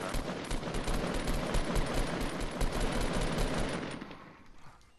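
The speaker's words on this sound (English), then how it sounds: "Are they shooting at you? No, they're fighting in the middle of the street." Rapid automatic gunfire from a Fortnite Battle Royale street fight crackles densely and loudly for about four seconds, then thins out and fades toward the end with no voices.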